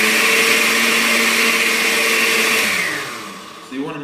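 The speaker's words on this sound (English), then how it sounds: "And then, blend it a little bit." A blender whirs loudly and steadily while blending mango and beet, then winds down and slows near the end with a short bump in tone.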